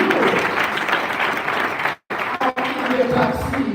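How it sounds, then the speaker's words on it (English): Audience applause at a live wellness session, a dense wash of clapping that briefly cuts out and resumes, with a voice speaking over parts of it. "Can you clap for that?"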